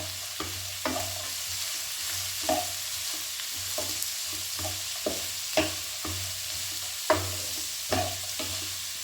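Ginger, chopped garlic and onion sautéing in a pan make a steady, moderate sizzle, punctuated by regular soft knocks and scrapes of a spoon being stirred, with no one speaking.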